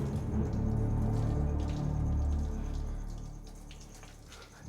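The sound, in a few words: water running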